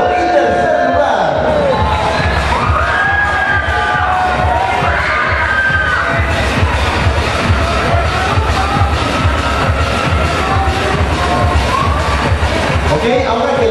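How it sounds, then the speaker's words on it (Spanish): A crowd applauds and cheers for the first, second and third place winners of a contest, with loud whoops, shouting and a continuous roar of voices throughout. "Fuerte aplauso que se escuche para nuestras ganadoras de primero"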